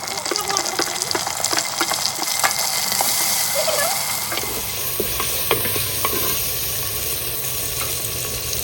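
Onions, tomatoes and red chili sizzle steadily in a hot pan, with a spoon stirring and scraping now and then; constant close crackling throughout.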